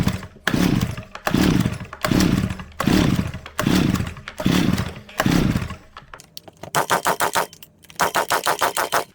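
Stihl 010av chainsaw, one with no spark and no compression, being pull-started: seven rhythmic rasping recoil pulls, then a rapid series of sharp popping strokes as the engine briefly sputters, loud and close.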